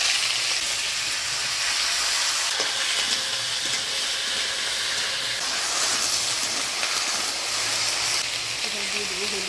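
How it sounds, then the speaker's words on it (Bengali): Chopped vegetables for a cauliflower stalk chorchori land in hot oil tempered with black cumin, a loud, continuous close hiss and sizzle throughout. "চচ্চড়িতে ফোড়ন দিব কালো জিরা, এবার কাটে রাখা সবজি দিয়ে দিব।"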